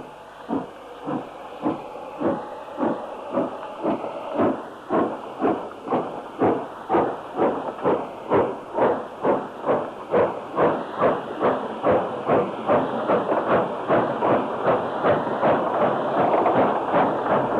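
A GWR Manor class steam locomotive departs a station hauling the Up Cambrian Coast Express, its exhaust beats starting slow and loud, then quickening into a rapid, evenly spaced chuffing over a steady hiss.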